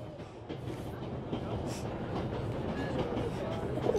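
A train rolls steadily along in the video game 11-11: Memories Retold, a continuous low rumble of wagons with faint rail clatter, moderately close and unbroken for the whole stretch.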